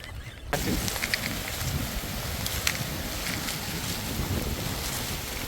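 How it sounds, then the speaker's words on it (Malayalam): Heavy rain pours in a dense, continuous hiss, with gusts of wind buffeting the microphone. "ഭയങ്കര മഴ"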